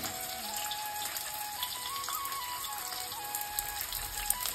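Onions, green chillies, ginger and garlic sizzle in hot oil in a heated kadai, a steady crackling hiss with small pops running throughout, with no talking.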